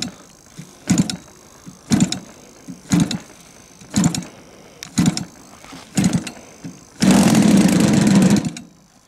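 A gas engine on a giant 2.5 m Primary 100 model airplane, fitted with a new CDI unit, gives a series of short, close bursts about once a second. It then catches and runs loudly for a couple of seconds.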